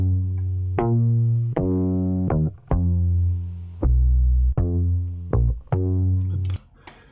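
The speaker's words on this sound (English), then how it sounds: "they even added a very simple bass line that they edited themselves" A simple edited bass line plays over a choir loop, with deep sustained notes in a slow repeating pattern and sharp attacks at each change, all instrumental with no voices speaking.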